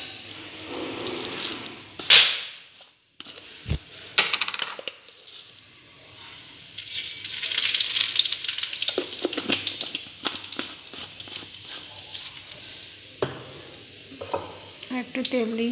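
Dried red chillies and whole spices such as garam masala and cumin seeds hit hot oil, giving bursts of crackling sizzle and spattering with clinks of a stirring utensil, close and uneven, and no voices.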